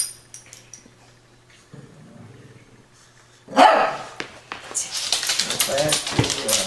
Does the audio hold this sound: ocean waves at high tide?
no